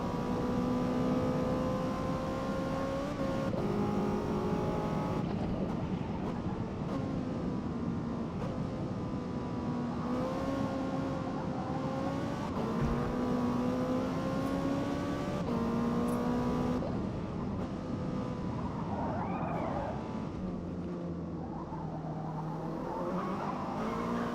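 A racing car engine revs and shifts gears continuously, loud and close, with occasional tire squeal, like driving in a racing game.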